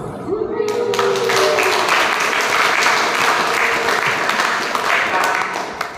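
Audience applause at an anniversary celebration, a dense, steady wash of clapping that holds loud for about six seconds, with a faint voice near the start.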